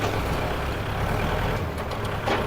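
A Kubota L5018SP tractor's diesel engine idles and rumbles close by while backing up in first gear, a low, steady, throbbing drone throughout.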